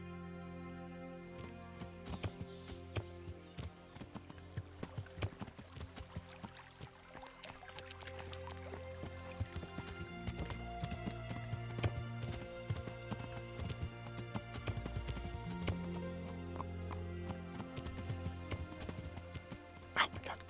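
Hooves of a horse clip-clop steadily in the video game Kingdom Come near a creek, a continuous patter of strikes over game music and ambience for about twenty seconds, with a voice talking over it at times.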